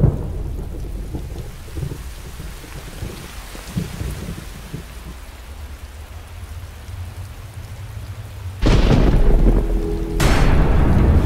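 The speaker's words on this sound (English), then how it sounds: "There's a storm coming." A thunderstorm with steady rain hissing throughout, low rumbles of thunder early on, then two loud, close thunderclaps near the end, no voices.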